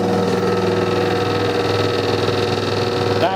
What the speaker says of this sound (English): that's turned the spindle and the coolant on